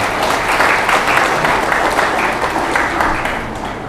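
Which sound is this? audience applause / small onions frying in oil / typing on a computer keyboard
audience applause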